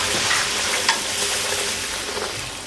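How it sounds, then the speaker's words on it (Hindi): Puris frying in hot oil for a Sheetla Ashtami meal, a steady close crackling sizzle with a few brief pops and bubbling spurts throughout. "मैं पूड़ी फ्राई कर देती हूँ फटाफट से।"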